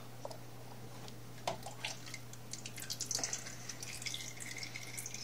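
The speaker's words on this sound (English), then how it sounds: "make sure you got a pail under this because it's going to pour a little bit of oil" Engine oil trickles and drips from a removed oil filter cover on a Can-Am Renegade or Outlander ATV, faint scattered drops and small splashes over a low steady hum.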